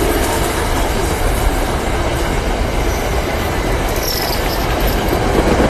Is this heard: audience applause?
no